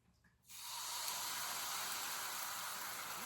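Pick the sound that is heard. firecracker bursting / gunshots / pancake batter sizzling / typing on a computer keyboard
pancake batter sizzling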